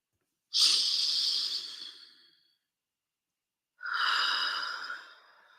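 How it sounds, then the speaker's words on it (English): Two slow, deep breaths taken close up during an emotional freedom technique session, each a long airy rush that fades out, separated by a short silence. "Okay, deep breath."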